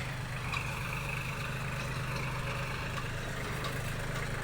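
A tractor works the soil along a fence line while its heavy engine rumbles steadily and loudly throughout, with a continuous low drone, faint intermittent scraping, and no voices.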